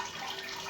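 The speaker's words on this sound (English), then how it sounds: "So we're going to drain these of all the water" Water pours and drains from a big pot of soaked corn husks for tamales, a brief, steady splashing trickle like a running tap, close and alone.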